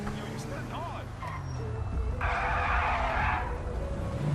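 A car does a burnout on a highway near US Route 1 in a police-patrol video game, producing a loud sustained tire squeal in the second half over a rumbling engine and traffic background, with talk over parts of the clip.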